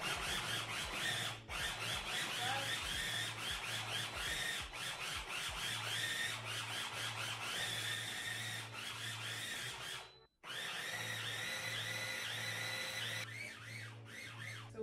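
Food processor grinding chickpeas for hummus, a loud steady motor whir with a pulsing hum and gritty churning, briefly stopping once before starting again; close and alone.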